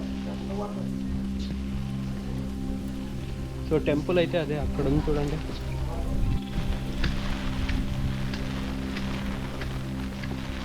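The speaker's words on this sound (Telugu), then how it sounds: "వర్షం అయితే బాగా బాగా పడుతుంది" Heavy rain hisses steadily beneath a low droning hum near Ramtek, Maharashtra, as someone speaks for a few seconds in the middle.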